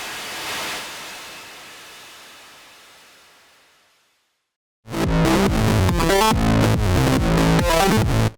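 A Head Banger Eurorack distortion module, routed through a filter and reverb, gives a hissing wash that fades into brief silence, then loud, dense, crunching distorted synth hits that pulse steadily to the end.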